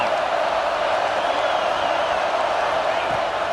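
Stadium crowd at a college football game against Clemson roars steadily on a 4th down play, a dense, loud wash of cheering and whooping that holds without a break.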